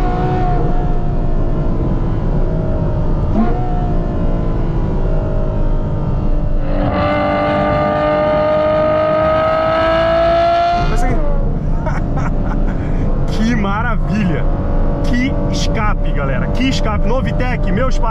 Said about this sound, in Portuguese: Ferrari, meus parabéns, porque que barulho fenomenal, que carro fenomenal